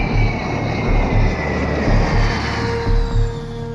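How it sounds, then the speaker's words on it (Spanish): A private jet in flight gives a steady, loud engine roar with a whining high tone and a low rumble that swells slightly and sustains throughout, with no voices. "Los sudaneses fletan un jet privado para él y sus colaboradores."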